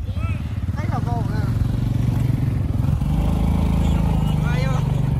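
Motorbikes hauling building materials along a steep mountain cliffside road, their engines droning steadily and close throughout, with people talking over the noise.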